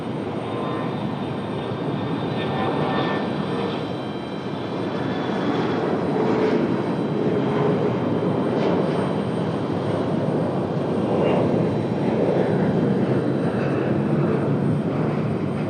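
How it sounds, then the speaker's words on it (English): A CRJ regional jet takes off at Raleigh Durham International Airport, its engines roaring in a loud, steady, sustained rumble with no voices over it. "Got a CRJ up for departure."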